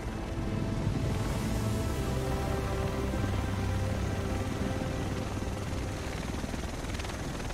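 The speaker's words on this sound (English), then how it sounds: "The rest of us should be in this chopper." A helicopter in The Division, a continuous loud rotor roar with a low, steady droning pulse, close and unbroken throughout.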